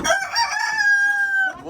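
A rooster crows once in a long drawn-out call, loud and close, among chickens at a Ukrainian village poultry purchase, with faint clucking around it.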